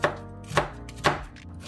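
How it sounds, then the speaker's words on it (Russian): A knife chopping onion into small cubes strikes a cutting board three times, crisp and evenly spaced, close and distinct, with no talking. "а нарезаем мелкими кубиками"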